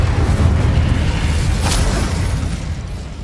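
Incendio fire spell in Hogwarts Legacy bursting in a deep rumbling boom with a brief crackling flare, the roar slowly fading out; no voices.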